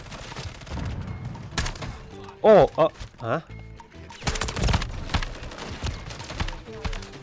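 Rifle fire with explosive rounds in Call of Duty MWIII, an online shooter, comes as several sharp, loud bursts and thumps mixed with game noise, while someone talks and exclaims throughout.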